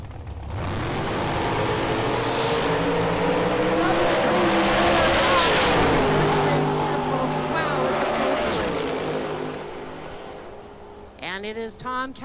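Diesel drag race cars launch down the strip at the Canadian Diesel Shootout, a loud roar swelling and sustaining before fading away, then voices briefly come in at the end.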